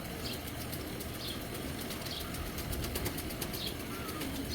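A racer pigeon, a young bird of Belgian stock, flaps its wings in a handful of quick, soft bursts spaced about a second apart, close by and fairly quiet.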